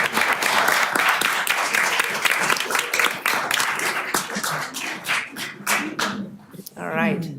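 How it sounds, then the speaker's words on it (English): An audience at a city council meeting applauds students, dense overlapping clapping that fills the room and then thins into scattered claps before voices take over at the end. "A round of applause for our students."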